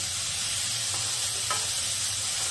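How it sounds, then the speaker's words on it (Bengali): Ridge gourd stir-fried in a pan for a poppy-seed curry with green chilli paste, a steady close sizzle and hiss with a couple of faint spatula scrapes. "একটু ভালো করে ঝিঙেটা দিয়ে একটু ভালো করে কষিয়ে নিই"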